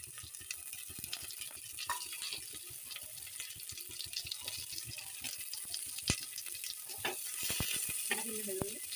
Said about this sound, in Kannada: ಇದಕ್ಕೆ ಫಸ್ಟು ಎಣ್ಣೆ ಕಾಯ್ದಾದ್ಮೇಲೆ ಬೆಳ್ಳುಳ್ಳಿ ಹಾಕ್ತಿದ್ದೀನಿ. ಈರುಳ್ಳಿ ಹಾಕೋಣ.